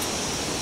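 River water rushing at the confluence of the Kaule and Kyang streams in rural Nepal, a steady, dense broadband roar heard alone without any talk.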